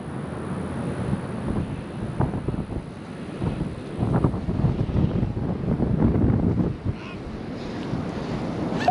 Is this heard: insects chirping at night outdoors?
no